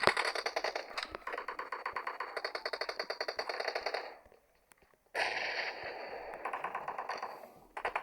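Rapid bursts of automatic rifle fire from the PUBG video game, loud and rhythmic, with a brief pause near the middle before the shooting resumes and then tapers off.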